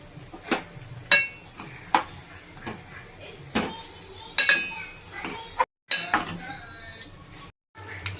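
A spoon clinks and scrapes in a pan while chicken curry ingredients are mixed, making irregular sharp knocks and stirring sounds with short gaps between them.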